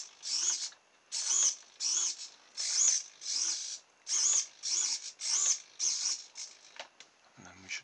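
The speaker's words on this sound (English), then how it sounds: "Got a servo tester in there at the moment," Small hobby servo steering the nozzle of a homemade water jet boat, driven by a servo tester, whirring in about ten short, regular buzzing bursts close up, with a brief low knock at the end.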